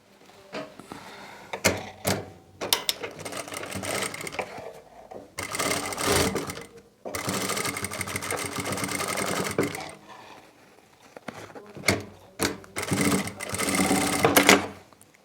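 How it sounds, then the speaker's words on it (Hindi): A sewing machine stitching the shoulder seam of a kurti runs in several bursts of rapid whirring, stopping and starting with short pauses and clicks between runs. "इसको पलटने से पहले हम शोल्डर की सिलाई लगाएंगे।"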